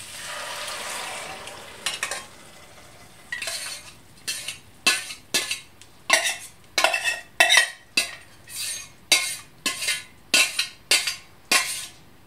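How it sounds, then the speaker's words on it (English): A spoon scrapes and clinks around a pan of soya mince (TVP) vegetarian pasta sauce with Marmite, starting with a sizzling wash and settling into a steady run of loud, rhythmic stirring strokes, close up with no talking. "Stir it through."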